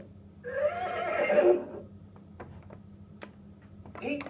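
A horse gives a single loud neigh lasting about a second, followed by faint ticking like a clock, as a sound effect for a brown toy horse in a children's animal-sounds lesson.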